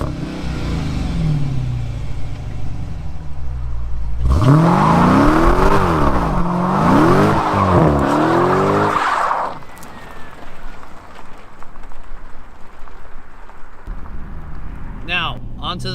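A Dodge Challenger 392 SRT V8 revs hard and loud with a deep, throaty roar. It climbs through several gears in rising and falling sweeps, then drops to a rumbling idle and cruise, with a brief snarl at the end.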